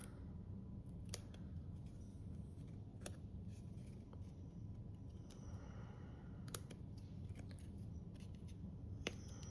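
Scissors make faint, sparse snips while trimming a paper card, each cut a crisp isolated click spaced a second or more apart over a low steady background hum.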